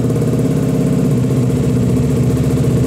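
KTM Duke motorcycle engine running loud and close, fresh Bosch spark plug fitted, with a steady, dense drone and rhythmic firing pulses as the throttle is twisted; no sharp rev peak stands out.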